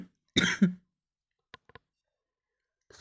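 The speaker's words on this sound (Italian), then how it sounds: "Scusatemi, ho preso un colpo di tosse fortissimo." A strong coughing fit: two harsh, loud coughs close together right by the microphone, followed by a few faint clicks and near silence, with no talking.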